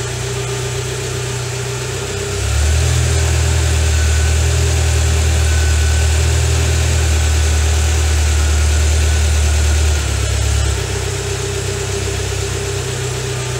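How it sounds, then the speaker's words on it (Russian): A UAZ engine, slightly warmed up, idles with a steady low hum, then its pitch steps up slightly to a faster idle and later drops back, running continuously and close. "Мотор чуть прогрелся. Стал работать более адекватно."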